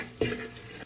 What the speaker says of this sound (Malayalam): അതിനെ നന്നായിട്ടൊന്ന് ഇളക്കി അങ്ങോട്ട് യോജിപ്പിച്ചെടുക്കണം കേട്ടോ